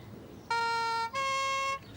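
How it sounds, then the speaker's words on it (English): A two-tone electronic siren wails in two loud steady bursts, a higher pitch then a lower one, with a brief gap between them. "Stop playing with that siren"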